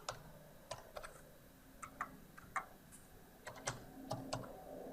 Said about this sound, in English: so I type that into the start date text box